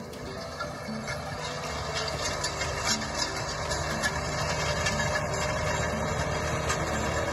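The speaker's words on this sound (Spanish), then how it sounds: "¿Cómo suena ese tractor, eh?" A John Deere 8R tractor engine runs at a distance in dry fields with a steady, moderate rumble, rising slightly after the first second and holding even throughout, with no voices.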